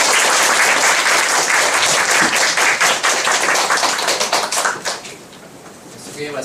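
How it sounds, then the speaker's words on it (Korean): Lecture-hall audience applauding a university professor as he is introduced at a humanities lecture, a dense, loud burst of clapping that thins out and fades near the end. "뜨거운 박수 부탁드립니다."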